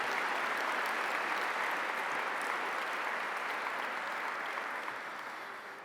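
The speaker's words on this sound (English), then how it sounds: "So give them a round of applause." A large gala audience gives a round of applause for adoptive parents, a broad, even wash of clapping from many hands that stays steady throughout and fades slightly toward the close.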